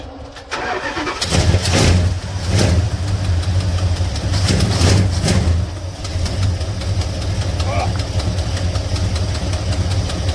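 A 1974 Plymouth Road Runner engine with an exhaust leak cranks and catches, then runs with a loud, uneven, throbbing idle and repeated revving bursts up close.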